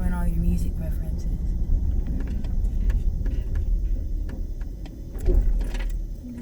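A car accelerates gently during a driving lesson, a steady low engine and road rumble heard from inside the cabin with faint rattles, under people talking.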